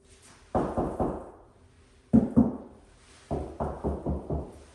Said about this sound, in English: I'm knocking on the wall like I know the difference.